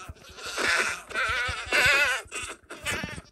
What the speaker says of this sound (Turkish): Bak keçi zıplar ki orada.